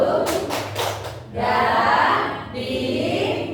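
Rhythmic hand clapping from a group playing a clapping game during a school presentation, with a steady run of claps followed by a sustained burst of clapping or noise.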